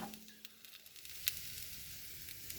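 Food browning in a frying pan on a stove in a van, a faint, steady sizzle with small crackles and pops throughout and no talking.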